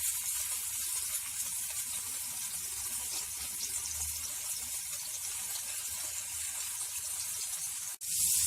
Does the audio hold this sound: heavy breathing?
no